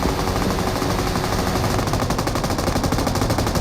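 Video game gunfire rattles in rapid automatic bursts, loud and continuous, with a dense crackling wash and no voices over it.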